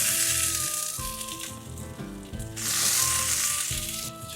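Stewed birria chuck meat hitting a Lone Star Grillz griddle, a soft steady sizzle that swells louder partway through, with faint tonal background sounds and no talking.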